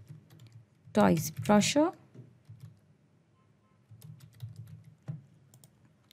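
Typing on a computer keyboard while setting up a marketing form: faint, scattered key clicks between stretches of close speech.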